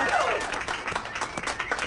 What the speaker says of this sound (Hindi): एलिसा हेरल्डसन के लिए जोरदार तालियां